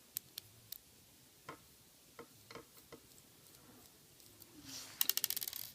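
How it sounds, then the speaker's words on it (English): Small screws being backed out of the drive of an N scale Atlas VO-1000 locomotive, giving faint scattered ticks and tiny metallic clicks in a quiet room, with a quick burst of sharper clicks near the end. "So all you need to do is remove those 2 screws."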